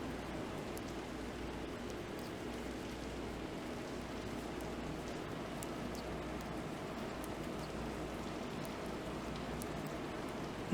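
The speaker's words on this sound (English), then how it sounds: "I think the rain is slowing down now." Rain falls in a steady, soft hiss throughout, with faint scattered drips over a quiet low background hum.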